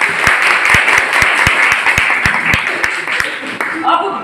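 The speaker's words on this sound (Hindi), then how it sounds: "एक बार ताली बजा लीजिए सर।" Audience applause at an RCM business seminar, a dense steady wash of many hands clapping loudly for the whole stretch, with a few sharper individual claps standing out and a voice briefly heard over it near the end.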